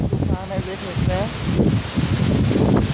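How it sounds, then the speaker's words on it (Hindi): Strong wind rushes and rustles through a village during a storm, a steady broadband roar that carries under continuous speech from people nearby. "हवा चल रही है"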